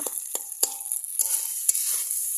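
Rice frying in a pan on a stove, stirred with a spatula in a home kitchen: a steady bright sizzle with several sharp scraping strokes of the utensil against the pan, close and alone with no talk.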